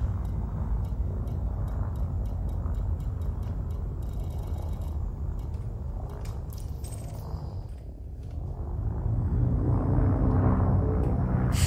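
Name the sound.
Asp ship engine in Elite Dangerous video game, propeller-like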